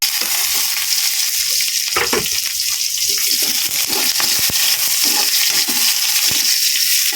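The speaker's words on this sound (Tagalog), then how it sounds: "Lagay ko na yung ating bawang." Steady loud sizzle of garlic and onion frying in a hot pan, with scattered stirring scrapes and pops throughout, close up and continuous, no voices.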